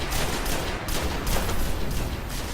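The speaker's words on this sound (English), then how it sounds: "I'm just going to start taking out the Vandals and stuff using the scout rifle" Scout rifle fire during a Destiny strike on Legend difficulty against Vandals, a dense, loud wash of game gunfire and battle noise filling the short stretch with no talk.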